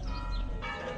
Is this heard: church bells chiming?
yes